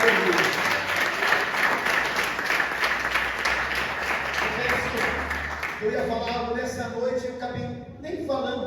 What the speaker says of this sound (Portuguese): Você pode aplaudir o Senhor, irmão?